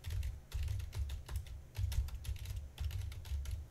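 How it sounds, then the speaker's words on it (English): Computer keyboard typing sound effect added to an automated phone assistant line, a steady run of quick key clicks in bursts with brief pauses, fairly faint and alone. "They actually add typing noises so that you feel like someone is typing down the answer"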